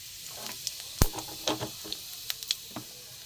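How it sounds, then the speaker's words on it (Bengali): Cumin seeds crackle in hot mustard oil in a kadai, a close sizzle broken by scattered sharp pops and spits that come in small irregular bursts. "এতে আমি অল্প একটু জিরে ফোড়ন দিয়ে দেবো।"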